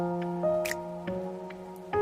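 Water heating in a kettle gives off soft ticking drips and small pops of forming bubbles over a steady low hum, close and fairly quiet throughout.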